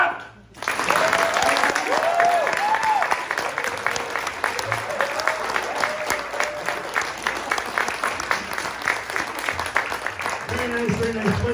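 A high school fall recital audience claps in loud, sustained applause that starts abruptly and fills the hall for about eleven seconds, with a few voices briefly audible near the end.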